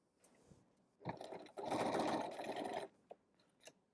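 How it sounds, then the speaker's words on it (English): A sewing machine stitches the short ends of a fabric scrunchie loop together at a 3/8 inch seam allowance. It gives a short whir, then a steady, faint mechanical hum for about two seconds before stopping, followed by soft handling taps. "we're going to match those short ends, right sides together, and we're going to sew"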